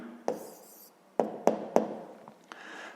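A pen writes down an answer to a sixth-grade maths exercise: a few sharp taps and scratches on paper, spaced irregularly, close and fairly quiet, with no talk.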